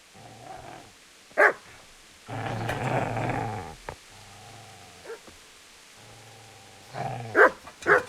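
A dog in the medieval game Kingdom Come Deliverance growls low and barks in sharp bursts, with rumbling growls between isolated yips and barks, close and fairly loud with no talk.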